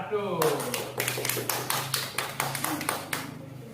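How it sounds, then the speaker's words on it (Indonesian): Applause for a group after its classroom presentation at a training session: a crowd claps in a steady rhythmic burst lasting a few seconds, loud and close, ending with voices starting. "kita kasih aplaus untuk kelompok 1"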